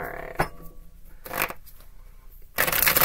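Tarot cards being shuffled by hand, with a few short riffling bursts and a longer, louder shuffle at the end, close and clear with no talking.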